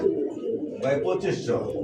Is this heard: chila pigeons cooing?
yes